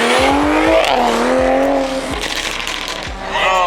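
A supercharged Mach 1 at a Cars and Coffee meet revs hard and accelerates, its engine climbing and falling in loud, close sweeps with brief tire squeal, alone without talk.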